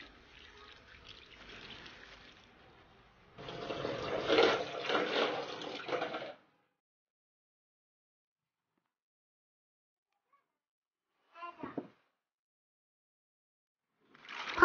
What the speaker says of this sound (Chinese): 黄豆清洗干净